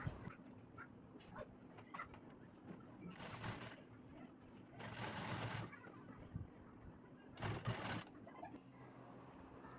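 A sewing machine stitches the side seam of a blouse in three bursts of fast, rattling whirr, each lasting about a second, separated by quiet handling of the cloth. The sound is faint and close.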